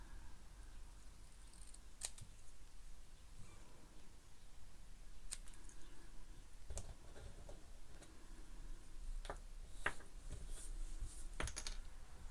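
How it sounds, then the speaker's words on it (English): Small scissors snip words apart from paper in a quiet crafting room, with a few sparse, crisp clicks at irregular intervals against a faint hiss. "it might be easy to do it on my scissors. So I'm just cutting the words apart."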